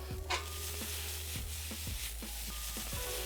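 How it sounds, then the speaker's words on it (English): Ready-made noodles sauté in a pan with a soft, steady sizzle, broken by a few scraping stirs and light knocks against the pan, fairly quiet and close. "I have some ready to go noodles, okay, in my pan, and saute them up"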